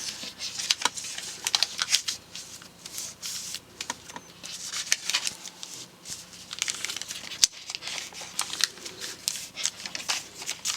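Paper being folded by hand into a small gift card envelope: close, soft crinkling and creasing rustles in irregular bursts, with sharper crisp snaps now and then and no voices.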